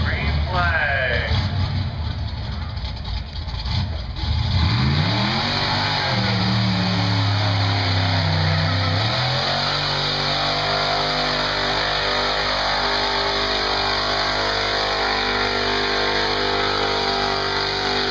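Engines at a dirt-track race start revving hard and climbing in pitch at Buck Motorsports Park in 2014, a loud sustained roar that settles into a steady drone, with an announcer talking over it throughout.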